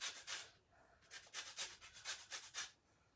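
Lemon zest being grated on a hand grater: a run of quick, close rasping strokes in bursts, pausing briefly, then a steady series of about eight rhythmic scrapes, with no talking.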